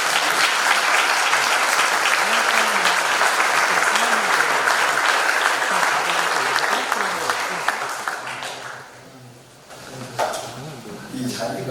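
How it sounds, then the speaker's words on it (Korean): A congregation at an evening worship service of a national pastors' fellowship gathering applauds to welcome a pastor to the pulpit. The clapping is sustained and full for about eight seconds, then fades, and a voice speaks afterward. "박수로 환영합니다"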